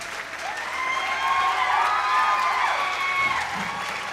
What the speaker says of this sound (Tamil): ஒரு நல்ல கரகோஷம் கொடுத்து